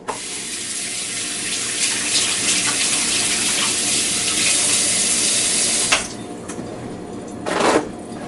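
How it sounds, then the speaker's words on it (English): Hands washed under a running kitchen tap: a steady close splashing stream for about six seconds, then the flow cuts off, leaving quiet with a brief second burst of water shortly after. "So I'll give my hands a quick wash."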